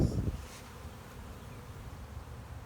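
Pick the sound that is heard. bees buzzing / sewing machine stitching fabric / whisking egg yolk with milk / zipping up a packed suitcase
bees buzzing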